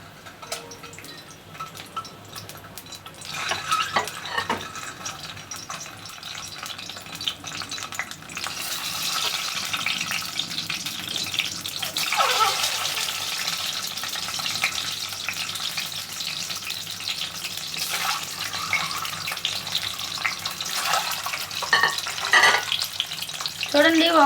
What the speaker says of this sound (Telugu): అయితే నూనె బాగా వేడెక్కిపోయింది. ఇప్పుడు ఒక్కొక్క గుడ్లని మెల్లమెల్లగా వేసుకోవాలన్నమాట.